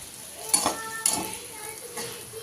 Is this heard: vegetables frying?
yes